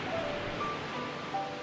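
Ocean waves breaking on shore make a steady, broad wash of surf that fills the whole stretch without pause, fairly soft and even, with no voices.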